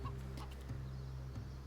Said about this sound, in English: Chickens are just standing around.